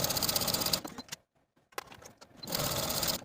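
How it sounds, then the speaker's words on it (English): Sewing machine stitching facings to the center back seam of a jumpsuit, a close, steady whir that stops for a short pause, then a few brief bursts before running steadily again. "Sew your facings to the center back seam with a 3/8 inch seam allowance"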